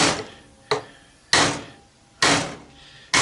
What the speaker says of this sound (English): Try to hit it just to the outside of the metal stator.